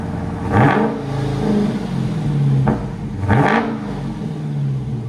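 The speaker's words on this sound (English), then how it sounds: "Borla attack system, Dodge Challenger." A 2022 Dodge Challenger Scat Pack V8 with a Borla ATAK exhaust revs twice, each rise swelling into a deep rumble before settling back to a burbling idle, recorded up close.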